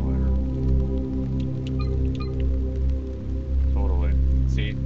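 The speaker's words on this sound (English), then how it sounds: "It's raining." Rain falls in the dark horror video game Hollowbody (demo), a soft steady patter under a low droning ambience with a few faint tonal game sounds layered on top.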